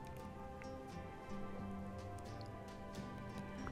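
Mustard seeds and cumin sizzling in hot oil in a pan, a dense, steady crackle and patter of tiny pops at close range with no talking.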